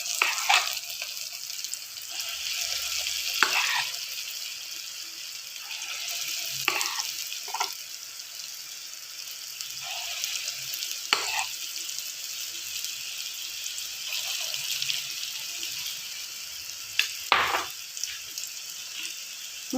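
Vada batter for dahi vada sizzles steadily in hot oil, a continuous close crackle broken every few seconds by sharper splashes as pieces are dropped in one by one.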